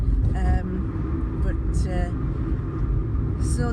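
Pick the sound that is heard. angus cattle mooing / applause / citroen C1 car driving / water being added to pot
citroen C1 car driving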